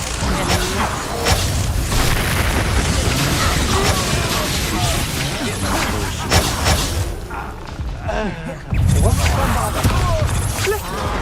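Confringo fire spell exploding in the Hogwarts Legacy video game, booming blasts and crackling impacts layered with busy combat effects, with a voice talking over the fight.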